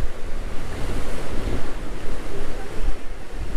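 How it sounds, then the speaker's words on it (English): Rough surf breaking continuously near a coastline on Saipan's Forbidden Island, a dense steady roar of crashing waves with wind buffeting the microphone, no voices. "look at the waves"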